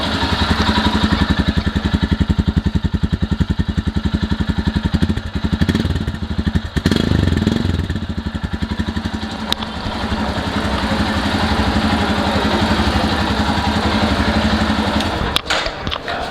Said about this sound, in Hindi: अब मैं एक बार स्टार्ट करके दिखा देता हूँ, उसकी साउंड सुना देता हूँ ये कितनी अच्छी साउंड करती है